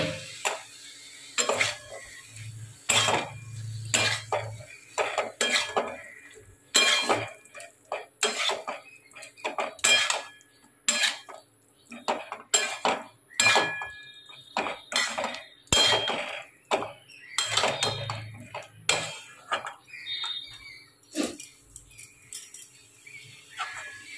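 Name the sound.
stirring boiled potatoes in a cooking pan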